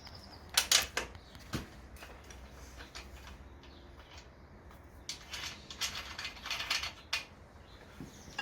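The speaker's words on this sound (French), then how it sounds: "on vient dévisser à droite et à gauche pour démonter la roue" A Cowboy V2 e-bike wheel is loosened with a ratcheting tool on both sides, giving quiet mechanical clicks and short metallic rattles in scattered bursts against a low background hum.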